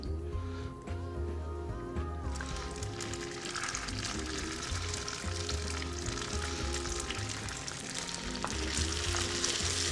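Garlic, pine nuts and roasted, marinated capsicum sizzle in olive oil in a pan, a steady close crackle that grows busier after a couple of seconds, with a low musical hum underneath.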